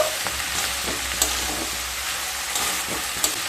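Ginger and mustard paste stirred into fish sizzling in oil in a pan, a steady broad frying hiss with occasional scrapes and clicks of the spoon, close and continuous with no voices.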